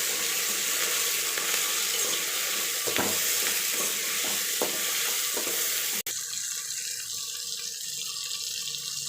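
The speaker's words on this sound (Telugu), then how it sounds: "కొంచెం వేగిన తర్వాత కొత్తిమీర, కరివేపాకు అయితే వేస్తున్నాను." Coriander and curry leaves sizzle steadily in hot oil in a pan for vegetable biryani, a loud continuous frying hiss with a few stirring scrapes, then a sharp knock and a calmer sizzle.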